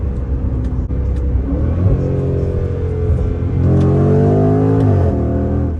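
A Range Rover Velar SV accelerating hard, its engine rising in pitch, dropping as it shifts gear, then climbing again. The sound is loud and close, heard from inside the car.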